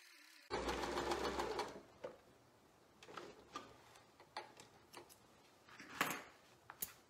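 A sewing machine stitches a circular seam on fabric for an emoji cushion. One loud, close burst of fast stitching is followed by quieter scattered ticks and clicks as the work is handled.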